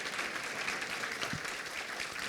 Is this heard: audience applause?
yes